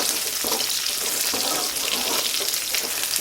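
Slit green chillies, about twenty, tipped into a hot pan of chicken curry sizzle steadily and loudly, a dense continuous hiss of frying with faint stirring, and no voice heard.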